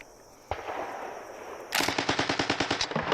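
An Uzi fires a rapid burst at steel plates on a multigun competition range: a sharp single report, then a quick run of about ten loud shots in an even rhythm, close by.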